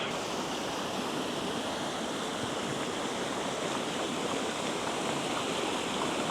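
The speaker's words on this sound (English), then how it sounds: "when the runoff is going that fast from our local little brook" A small local brook running fast with runoff after heavy overnight rain gives a steady, unbroken rushing and hissing of water throughout, close and even in level, with no voices.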